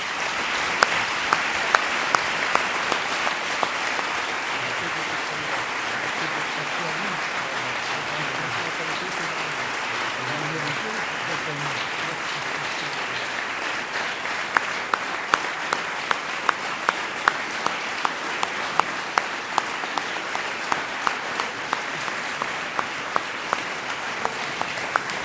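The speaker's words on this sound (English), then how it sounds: "c'est lui que je vous demande d'applaudir" Sustained audience applause in a hall before a debate final between Polytechnique and Sciences Po, steady dense clapping throughout, with a voice speaking over it early on and sharper individual claps standing out near the end.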